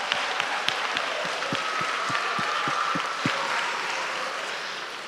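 A school audience gives a round of applause at a family gathering, a dense, fairly distant wash of clapping with regular rhythmic claps and thumps through the first part, slowly dying away.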